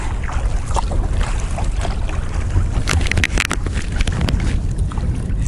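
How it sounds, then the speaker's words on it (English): Wind gusting across open water while a kayak is paddled on a fishing trip in a wilderness area, a continuous rushing roar broken by close splashing and buffeting noise near the microphone. "No, the wind hasn't died down."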